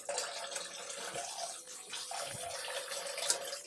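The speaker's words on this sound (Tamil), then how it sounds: "முதல்ல வந்து சிக்கனை வந்து நல்லா தண்ணியில் ஒரு ட்ரிப்புக்கு ரெண்டு ட்ரிப் நல்லா க்ளீன் பண்ணிக்கலாம்" Water splashes and runs as raw chicken is washed in a pot for chicken curry, a continuous close, moderately loud swishing with small splashes throughout.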